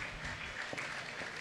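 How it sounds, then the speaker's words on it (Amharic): A church congregation bursts into applause and joyful ululation, a steady dense wash of clapping with a bright high trilling layer running throughout. "እልልታ ለናዝረቱ ለኢየሱስ"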